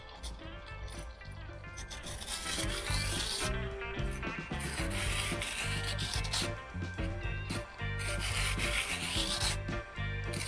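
A file rasps along a blade edge to raise a burr, close and repetitive, with rhythmic scraping strokes in bursts separated by brief pauses.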